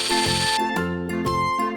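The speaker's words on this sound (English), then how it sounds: "Look, drill machine drills out 4 molds first." A toy drill machine drilling out molds for a toy fire truck gives a loud, continuous electronic whirring hum with sustained tonal lines, shifting pitch in a few short steps and pulsing segments, with no talk over it.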